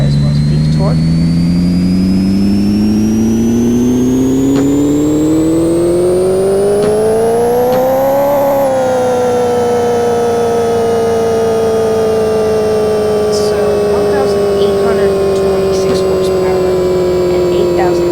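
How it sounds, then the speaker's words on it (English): A Honda Civic engine built to over 1800 horsepower is revved hard on a dyno, its loud droning pitch climbing steadily to a peak and then easing back down while the engine keeps running, very close. "And now I'm going to dyno it."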